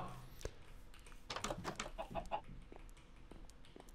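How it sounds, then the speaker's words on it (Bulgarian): A hen clucks close by inside a house, a quick series of short, throaty clucks bunched in the middle, then trailing off into quieter room noise. "вече имаме кокошка, която живее с нас вътре в къщата"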